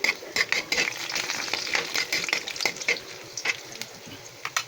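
Garlic sizzles and crackles in hot oil in a pan while frying for Filipino chicken adobo, a steady close sizzle broken by stirring scrapes and clicks throughout.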